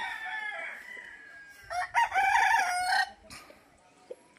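A gamefowl rooster at a game farm crows once, clear and fairly close, preceded by softer clucking and farm background, with a faint sharp noise after the call.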